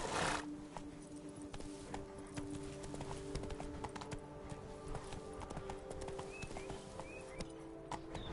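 Horse galloping in The Witcher 3, rapid clip-clop hoofbeats with a brief neigh or whinny, steady and fairly close over game ambience.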